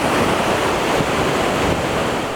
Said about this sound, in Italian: i salti dell'acqua sono spettacolari e inquietanti, prima che la corrente finisca nel Brenta con forza esplosiva